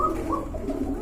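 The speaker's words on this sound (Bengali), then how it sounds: "মাশাআল্লাহ চমৎকার এক জোড়া কবুতর।" A pair of pigeons of the same colour coo in short, soft, close rolling phrases over a low background hum.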